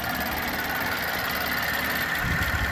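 Engine of a 2010 Chevy Traverse idling after a timing chain repair, with the mass airflow sensor unplugged, a steady, even, continuous hum with a fine rhythmic texture, unchanging and close throughout, with no talk.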